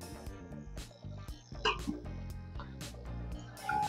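A dog yips and barks in short bursts inside a luxury hotel in São Paulo, close and fairly loud over a busy background of clinking and room noise.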